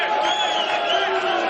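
Travelling Sydney United football supporters cheering at a semi-final against APIA Leichhardt, a continuous loud crowd roar with whoops and shouts running through it.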